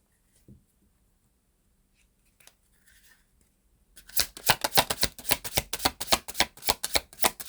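Tarot cards are handled: a few faint taps in near silence, then a sudden run of rapid, crisp, close card riffling that continues densely to the end.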